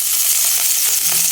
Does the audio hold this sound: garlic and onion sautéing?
yes